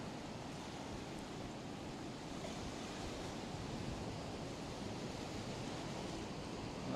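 Sea waves surging ashore into a residential area, heard as a steady, dense roar of rushing water that stays loud and unbroken throughout with no voices.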